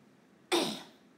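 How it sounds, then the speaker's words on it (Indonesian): A single short cough bursts out close up against quiet background, then trails off. "Maaf ya, batuk-batuk."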